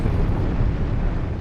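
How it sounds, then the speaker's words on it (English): An explosion sound effect fires from a DJ soundboard, a loud, dense rumbling blast that fills the whole short moment without any talk. "I got the explosion."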